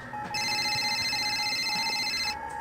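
An incoming call rings on a mobile phone with a steady electronic tone that holds for about two seconds and then cuts off, set over a quiet, muffled room background with no speech.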